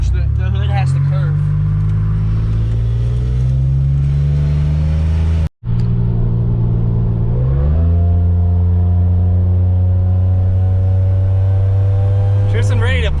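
A supercharged Pontiac Bonneville SSEi with a new L67 engine and ZZP VS cam revs while driving. The loud, close engine climbs steadily in pitch, cuts out for a brief instant, then rises again through a second long pull.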